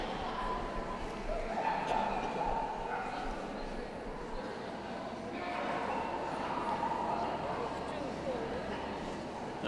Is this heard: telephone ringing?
no